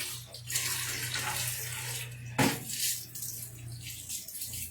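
Hands rinsed under a running kitchen tap while cooking, a short steady gush of water with a low hum beneath and one sharp splash partway through, no talk.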